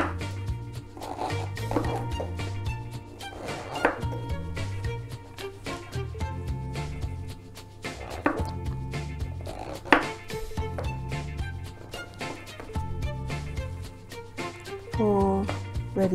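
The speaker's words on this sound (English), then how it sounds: "and also some cut some onion and some garlics and oyster mushroom" A knife chops onion, garlic and oyster mushrooms on a board, making a series of quick close taps at an uneven pace under steady background music.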